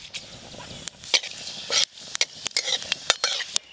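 Dry red chillies and panch phoron spluttering in hot mustard oil for a raw mango chutney, with sharp crackling pops and sizzle rising and falling over a few seconds, and a utensil stirring in the pan.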